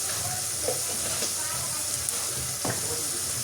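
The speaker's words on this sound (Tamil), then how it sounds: "எல்லாம் போட்டு நல்லா வதக்குவோம்" Spices, coriander powder and pepper powder among them, sauté in a pan with a continuous low sizzle and hiss, broken by a couple of faint stirring scrapes.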